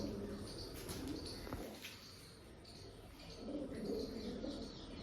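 Pigeons kept for sale coo softly in low, rolling bursts, with a few chirps and wing flutters in the background. No one speaks.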